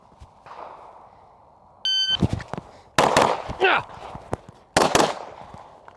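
Rapid handgun shots fired in a speed drill, with sharp, loud reports spread across several bursts, one preceded by an electronic timer beep, ringing out against a quiet range background.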